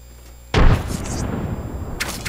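A frag grenade explodes in the video game Apex Legends with a sudden deep blast after a brief quiet moment, followed by a rumbling decay and faint crackling debris.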